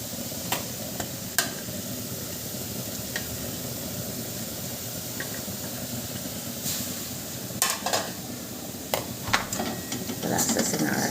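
Crab curry with onion, garlic, ginger, turmeric and tomato paste stirred slowly in a pan, a steady soft sizzle with faint scrapes and a few clinks, under light talk.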